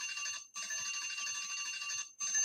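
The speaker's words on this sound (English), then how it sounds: "there's the bell, Kojo." A loud electric bell rings in a studio setting, a continuous metallic clang with two brief breaks, close and alone with no one talking.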